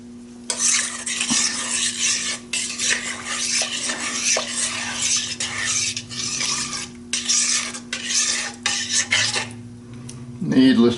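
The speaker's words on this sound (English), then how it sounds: "I need to add the oil, stir that in." A spoon scrapes and swirls through a bowl as oil is stirred into a frothy yeast mixture for bread dough. The stirring runs continuous and close, with clinks against the bowl and a low hum behind it. There is no talking.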